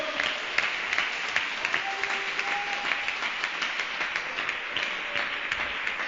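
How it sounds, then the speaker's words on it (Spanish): A church congregation applauds during a sermon, with quieter, uneven clapping marked by individual sharp claps. A faint tonal note rises in the background partway through. "Bríndale un aplauso al Señor."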